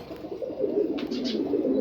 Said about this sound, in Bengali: রেসার কবুতর জোড়া